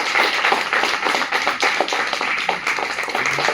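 Audience applause at a cleanliness campaign event at an NSTI training institute, a steady dense wash of many hands clapping at close range, continuous and fairly loud with no talk over it.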